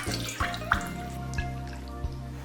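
Tap water running into a sink while duck meat is washed, a steady low flow broken by a few splashy knocks and drips at irregular moments, close and fairly quiet, with no talk.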